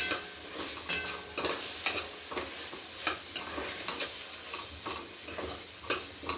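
Tomatoes, medium-sized, frying in a pan for palak paneer, with a steady sizzle and repeated scrapes and taps of a spoon stirring at an uneven rhythm, close and moderately loud with no talk.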